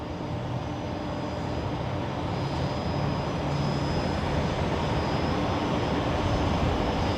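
Qantas airliner waiting at the Alpha 3 holding point at Brisbane Airport at night, its engines giving a steady broadband roar heard from a distance, constant throughout with no speech.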